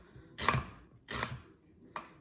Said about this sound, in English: Cut the onions really, really fine, as fine as you can cut it.